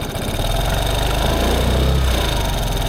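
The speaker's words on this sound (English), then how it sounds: "And it idles back to normal idle speed once the engine is warmed up." A warmed-up Piaggio Fly 150 3V scooter engine idles steadily up close, a continuous low mechanical hum with a faint rattle and no voices.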